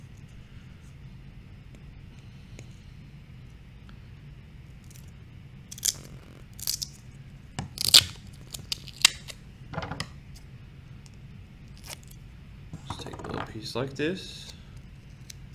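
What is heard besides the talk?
scissors cutting a piece of duct tape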